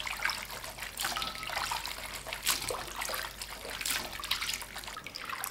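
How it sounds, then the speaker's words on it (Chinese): Pig skin is rinsed and scrubbed by hand in water in a basin, with fairly quiet splashing and sloshing that comes in uneven bursts, close by and without talk. "这个猪皮一定要多清洗几遍，前几遍我们用温水清洗，后两遍可以用凉水"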